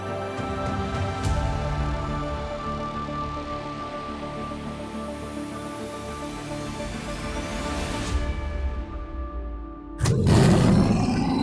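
A giant's deep, sustained roar from a Warhammer Age of Sigmar War Stomper, a long rumbling bellow that builds and then breaks into a sudden loud crashing burst near the end, with no voices.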